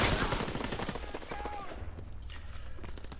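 Semi-automatic WW2 rifle fired in the video game HardPoint, a quick run of sharp shots at the start fading into a low rumbling tail, with no talk over it.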